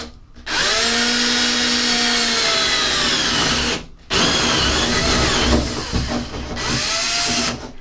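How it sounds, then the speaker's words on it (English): A loud power drill cuts a 15mm hole through a wooden OO gauge model railway baseboard, running steadily and close for several seconds, briefly stopping, then resuming with a rough grinding tone as the bit works through. "And I'm just going to drill a 15mm hole"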